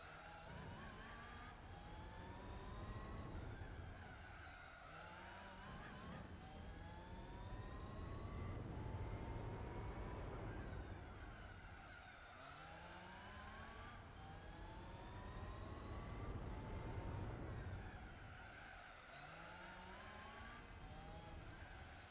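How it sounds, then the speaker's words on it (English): Car engines in Gran Turismo 4 rev up and shift through gears again and again, rising whines climbing then dropping in repeated cycles, steady and loud throughout with no talk. "The car sounds here aren't good enough"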